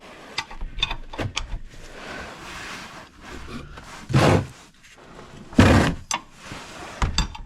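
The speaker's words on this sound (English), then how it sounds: "I'm going to use just a 17mm box end wrench to get that drain plug out." A 17mm box end wrench works loose an oil drain plug on a high-mileage vehicle, giving scattered metallic clicks, clanks and a few louder knocks at close range.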